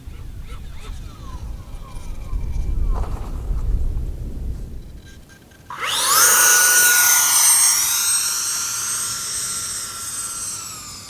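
An E-Flite F-14 Tomcat model jet with twin 40mm electric ducted fans comes in to land, first a low rumbling whoosh, then a loud, rising high-pitched fan whine that sweeps up sharply and holds near and strong.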